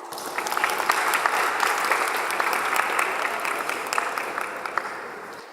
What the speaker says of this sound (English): A big round of applause for all our panelists.